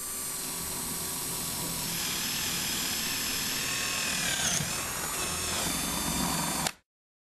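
A cordless drill driver whirs steadily at high speed for several seconds, a loud continuous motor whine that shifts slightly in pitch before stopping abruptly.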